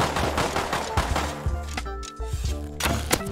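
Rapid bursts of gunfire in the survival game Rust, several sharp shots in quick succession with a short pause partway, loud and close, no talk over them.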